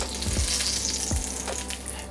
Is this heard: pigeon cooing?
no